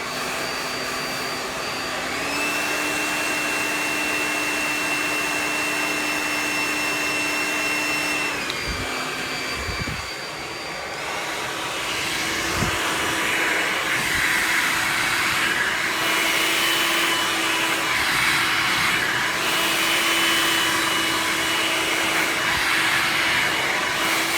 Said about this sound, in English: I'm going to go in and use the cold shot button on my dryer